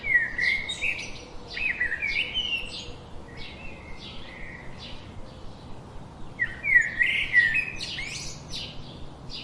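A cartoon parrot chirping in a jungle scene, giving bright, repeated bursts of tweets and whistles in two clusters separated by a short pause, close and clear with no talking.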